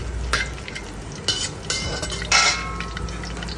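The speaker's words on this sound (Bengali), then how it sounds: "আমি একদম শেফদের মতো চাইনিজ কড়াইতে রান্না করতেছি" Food for chilli chicken is stir-fried in a Chinese wok, a steady sizzle with several sharp scraping stirs of a utensil against the pan, close and clear.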